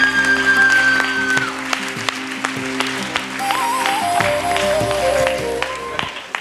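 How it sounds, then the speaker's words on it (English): Sustained applause from a large audience at a CA students' national conference valedictory ceremony, dense clapping throughout with music tones over it, fading near the end. "A huge round of applause, please."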